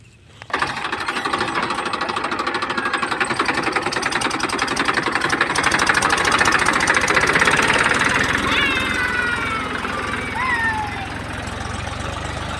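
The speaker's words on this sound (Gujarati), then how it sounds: "ટ્રેક્ટર આવી ગયું છે અને હાંકવાનું થઈ ગયું છે ચાલુ." A tractor engine runs steadily while ploughing a village field: a loud, continuous, rough knocking drone that holds for the whole stretch. Faint chirps rise briefly near the end.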